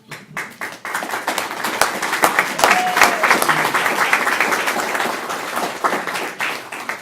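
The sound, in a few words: audience applause for the food wrangler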